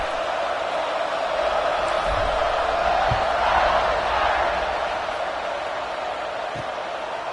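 A football stadium crowd roars in a broad, steady wash of noise, distant and continuous, with faint thumps beneath and no clear individual voices.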